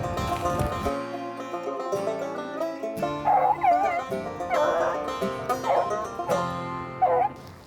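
Hunting dogs on a rabbit chase give tonal, howling bays and yelps, repeated in uneven bursts at middle distance, with other outdoor movement underneath.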